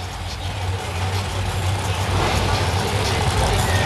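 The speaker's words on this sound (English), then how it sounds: "the Boston Nova going to do another burnout" Chevrolet Nova revving through a burnout at a drag race at Texas Raceway, a loud, steady low engine roar that swells toward the end, with an announcer talking over it.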